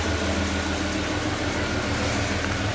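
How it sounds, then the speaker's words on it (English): A Holden VS Commodore exhaust with a 2.5 inch cat-back system and Pacemaker extractors gives a loud, steady, close rumble that holds at an even level throughout, with no clear rise or fall in revs. "I'll give a bit of an exhaust."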